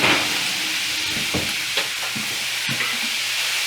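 Onions and cornbread sautéing in a pan, a steady close sizzle and hiss with a few soft scrapes of stirring, moderately quiet and without talk.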